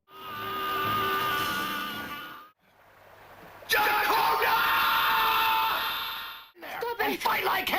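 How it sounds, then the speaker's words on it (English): Reb Brown screams in an action film scene, a loud sustained male yell, then after a short pause a second long bellowing scream, followed by choppy shouting and noise. "Reb Brown's commitment to screaming, it just can't be overstated here."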